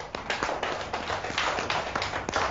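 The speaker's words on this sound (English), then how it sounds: "Give yourselves a clap" Year 1 schoolchildren in a classroom clap for their classmates, a quick, uneven patter of small hands that is fairly quiet and steady throughout.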